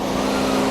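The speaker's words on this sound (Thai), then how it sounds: "นะฮะนี่คือเสียงเครื่องยนต์นะ" A 2020 Toyota Camry 2.5 HV Premium hybrid runs with a steady, loud, close drone that holds an even pitch without revving through the brief moment.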